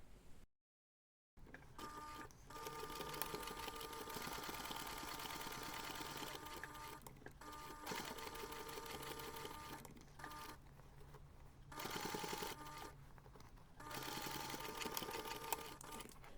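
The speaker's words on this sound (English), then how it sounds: "take this to the machine and top stitch around the flap" Sewing machine top stitching around a pouch flap, a steady quiet mechanical whir in long runs broken by short pauses, heard close and alone.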